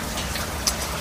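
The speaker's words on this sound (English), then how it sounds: "It's pouring pretty hard." Heavy rain pours outside as a dense, steady hiss of drops with no gaps and no talk.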